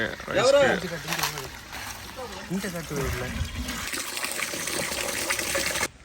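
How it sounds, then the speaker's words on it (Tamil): Rice being washed in water for a village-style fish biriyani, sloshing and gushing close by while someone talks over it, the splashing continuing alone afterward before stopping abruptly. "அரிசி கழுவிட்டு இருக்கிறாரு"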